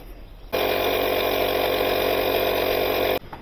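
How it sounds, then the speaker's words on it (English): A motor cranks over hard for about two and a half seconds on a UTRAI Jstar6 jump starter, a loud, steady whirring starter drone that cuts in abruptly and stops just as suddenly, with no speech. "Crank this motor over really, really good. You heard it."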